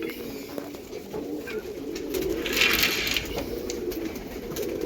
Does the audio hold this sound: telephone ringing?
no